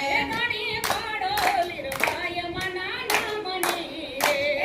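Devotees clap in steady unison, roughly two claps per second, keeping time with a sung Gujarati devotional song for Lirbai, the sati of Modhvada village; the crisp hand claps ring out over the continuous melodic singing.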